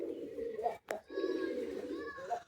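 Pigeons at a loft coo in low, rolling phrases close by, with a short break partway through and a sharper call near the middle; soft chirps and faint distant children's voices sit behind.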